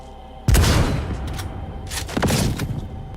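Heavier-calibre video game gunshot with a weighty mechanism, two sharp loud booms about two seconds apart, each with a thick low thump and a ringing tail, no talk.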